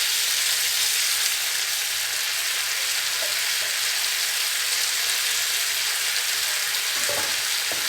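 Ash gourd leaves sizzle steadily in a hot pan while being stirred, a dense continuous frying hiss with faint scraping of the spoon, close and without talk.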